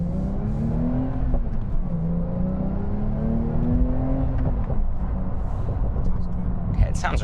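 A Porsche 992 Sport Classic 911 accelerating along a main road, its engine note climbing through the gears in repeated rising sweeps, heard from inside the cabin with a voice speaking over it.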